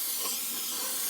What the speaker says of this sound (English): Again, with the brake clean.